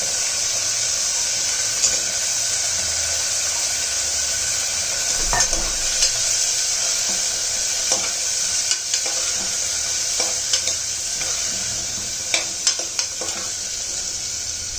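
Onion and garlic frying in a little oil for a root-vegetable soup, a steady broad sizzle with intermittent scrapes and clinks of stirring throughout, close and fairly loud, with no talking.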